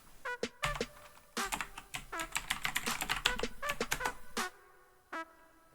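Typing on a computer keyboard: bursts of crisp, close key clicks in irregular rhythm with short pauses between, ending in a couple of isolated taps.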